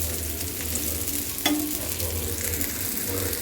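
Vanjaram fish marinated with lemon juice shallow-frying in a pan: a steady, even sizzle of hot oil, close and fairly quiet, with one brief clink partway through and no talking.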